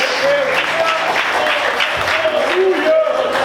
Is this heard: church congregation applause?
yes